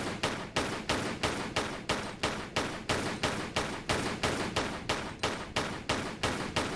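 Gunfire in a Tomb Raider 4 custom level: a steady, rapid series of sharp, evenly spaced shots, loud and close, repeating about three times a second without a break.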